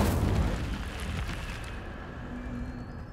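An Incendio fire spell in Hogwarts Legacy bursts out as a loud, rumbling whoosh of flame, strongest at the start and slowly fading away over a few seconds.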